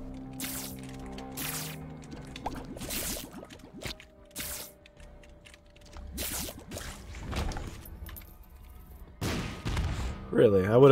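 Scatter bombs in The Binding of Isaac go off in a series of sharp, separate blasts spaced through the stretch, mixed with other game sound effects.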